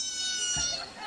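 Recorded cat meow played from a sound module in a trash can themed on the Bremen Town Musicians, a drawn-out, tinny electronic caterwaul lasting about a second, with a brief low thump partway through.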